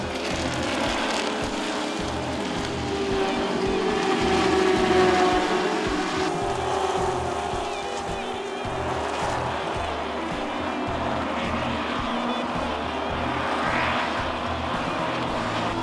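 A Stock Car race at Velocitta has a pack of cars running nose to tail and overtaking all around the track, heard as a continuous, distant, broadband engine roar that swells gently and then settles.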